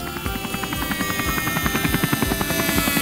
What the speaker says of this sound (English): It's time for the helicopter to land.